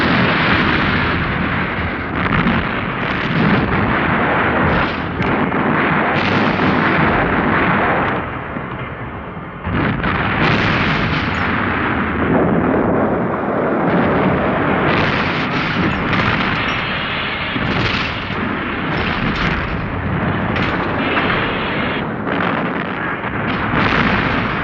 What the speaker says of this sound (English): The Navy bombarded Narvik